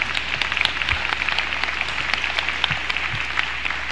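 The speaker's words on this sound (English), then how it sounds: "You clap for me" An audience claps for a speaker at a live talk, a steady, thick wash of many hands that holds at an even level throughout with scattered low thumps.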